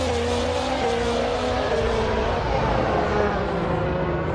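Race car engine droning steadily through pre-season testing, a sustained loud tone holding close with slight pitch drift and no clear pass-by swell.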